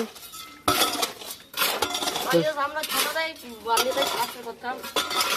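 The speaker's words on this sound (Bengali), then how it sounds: "দেখো সুন্দর মশলা মাখাচ্ছে মিস্ত্রি" A young mason mixes cement mortar with metal tools, giving repeated scraping clinks and scrapes at close range, with people's voices mixed in.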